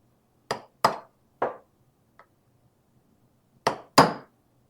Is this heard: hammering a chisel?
yes